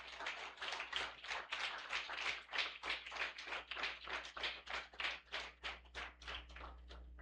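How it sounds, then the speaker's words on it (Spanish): Church congregation clapping in a steady rhythmic beat, about three claps per second, fairly close and moderately loud, with a low hum beneath and no talking. "Denle un aplauso al Señor."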